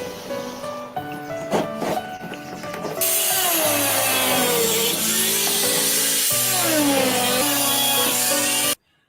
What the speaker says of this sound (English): Love the sound of an angle grinder.